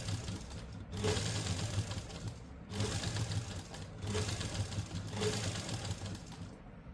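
A sewing machine runs three bursts of steady, fast stitching along a folded seam on a simple suit or kurti, each lasting under two seconds with short pauses between, close and fairly loud with no voices.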